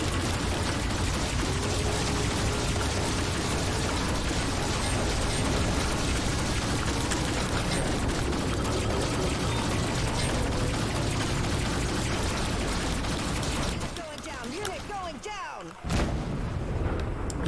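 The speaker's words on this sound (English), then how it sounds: "Beautiful explosions, right?" Dense, continuous rumbling blasts and crackling booms from the space video game Rebel Galaxy Outlaw fill the scene, with faint voices underneath, dropping off into near quiet before a final burst.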